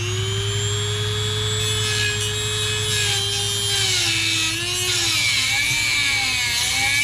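Small-bladed power tool whining steadily while cutting on a New Idea 737 corn husking bed, close and continuous, its pitch dipping and wavering as the blade bites in over a low mechanical hum.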